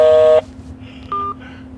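A phone keypad sounds a single loud touch-tone beep, followed by fainter electronic tones on the line in a quiet room.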